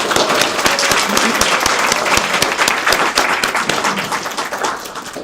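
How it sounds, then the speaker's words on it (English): Audience applause at a government grant announcement for youth job training, many hands clapping with distinct close claps, tapering slightly toward the end. "So let's give a round of applause for that."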